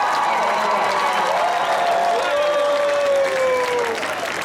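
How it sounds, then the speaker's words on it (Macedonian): Concert crowd applauding and cheering for a concert at Mega Shopping Park in Gevgelija, a steady loud wash of clapping with tonal voices or music drifting above it throughout. "може да ме поздравите со еден голем аплауз"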